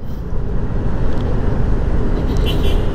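Steady road traffic at night rumbles broadly and continuously, with a low-heavy wash of passing vehicles that stays even and close throughout, and nothing else standing out.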